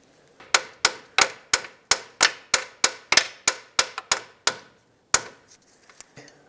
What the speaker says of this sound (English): Now remove the nut and let's drive out the bolt.